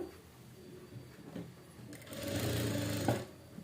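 A sewing machine stitches slippery blouse fabric, with a short run of quick, even mechanical whirring up close after a few quiet handling sounds.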